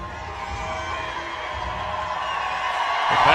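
Crowd roars and cheers at the CrossFit Invitational weightlifting event, a dense, steady wash of many voices that swells louder toward the end, while athletes rouse the spectators.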